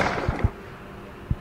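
Gunshots in a video game city street scene: four short, sharp pops at uneven intervals, two close together early and two near the end, fairly loud against a quiet background.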